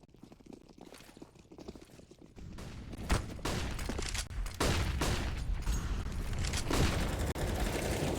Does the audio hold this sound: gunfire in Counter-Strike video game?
yes